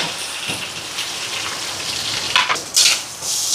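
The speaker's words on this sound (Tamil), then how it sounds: "இப்போ இந்த வெங்காயம் எல்லாம் வதங்கட்டுக்கும்" Onions, with fenugreek, curry leaves, green chillies and garlic, sautéing in a pan: a steady close sizzle with a few louder splattering bursts near the end, no voices.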